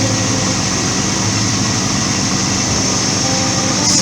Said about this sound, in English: The exhaust seems a little quieter than it should be.